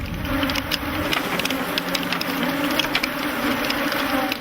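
Several million honey bees swarming around beekeepers working hives in Africa, a dense continuous buzzing drone close by with faint knocks and clatter beneath it.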